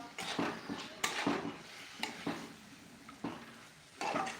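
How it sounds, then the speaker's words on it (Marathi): Green tomato curry is stirred in a pan with repeated spoon scrapes and light clinks against the metal at an uneven rhythm, close and soft. "तर टोमॅटोची भाजी मी व्यवस्थित मिक्स करून घेते"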